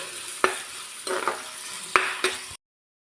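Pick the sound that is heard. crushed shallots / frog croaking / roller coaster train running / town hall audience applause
crushed shallots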